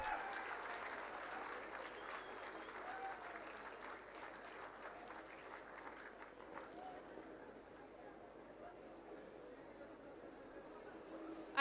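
A crowd at the SUFALAM 2025 food processing startup event at NIFTEM-K gives sustained applause that gradually thins and fades, with background chatter and murmuring voices mixed in.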